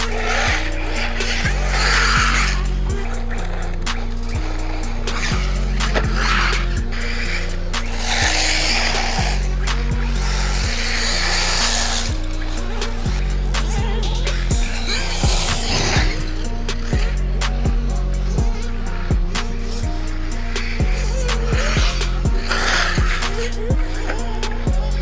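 A Typhon RC basher car drives and skids at an RC bashing meet, with tire squeals and motor whine that come and go under loud, thumping background music.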